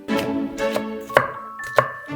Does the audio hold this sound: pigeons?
no